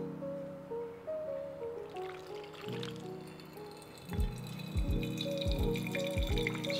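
Water draining through a coffee dripper, a faint trickle and drip that grows busier near the end with a few soft drops and taps.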